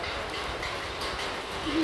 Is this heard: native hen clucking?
no